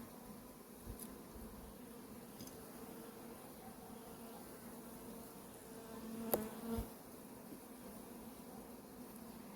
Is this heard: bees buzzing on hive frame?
yes